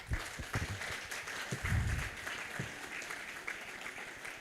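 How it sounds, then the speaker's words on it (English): Steady applause from a crowd at a county health scientific symposium in Kilifi, Kenya, a dense patter of clapping at moderate volume with no voices on top. "we need to applaud everybody here"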